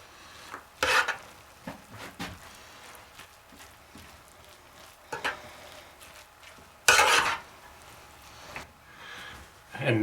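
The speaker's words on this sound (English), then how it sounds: "We'll get in there and fluff it up." A spoon digs into a pot of freshly cooked Mexican red rice to fluff it, giving a few sharp scraping bursts and softer rustling stirs at irregular intervals, close and fairly quiet, with no talking.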